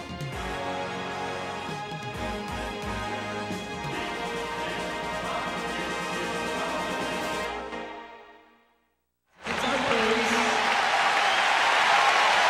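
Huge arena crowd at a Rizin fight between Kyoji Horiguchi and Tenshin roars loudly, first over music and announcing, then after a brief silence swells back into a dense, sustained cheer.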